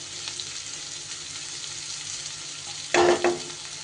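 Onions frying in a pan with a little salt for an egg curry, giving a steady soft sizzle throughout, with a louder scrape of stirring near the end.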